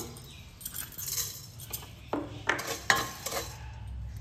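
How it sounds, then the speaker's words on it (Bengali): Twenty-five grams of coriander seeds dry-roast in a pan, with light rattling and scraping as a utensil stirs them, the clinks growing sharper and more frequent toward the end. "এখানে আছে 25 গ্রাম ধনে, এটাকে আমি প্রথমে ভেজে নিচ্ছি 10 সেকেন্ড মতো"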